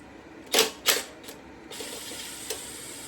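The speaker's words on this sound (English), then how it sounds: "I just heard the carburetor drop off" A motorcycle carburetor, held to the intake by 5/16 Allen head screws, drops off: two sharp metallic clunks close together, a fainter knock, then a light rattle and a small tap, close and fairly quiet.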